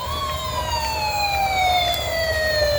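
Loud, close electronic wail from a cheap red knockoff toy fire truck, the siren tone gliding gradually lower over a gritty, buzzing low hum.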